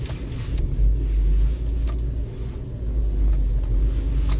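A car drives past on a street, a steady low engine rumble and tyre roar that stays loud and close throughout, with no talking.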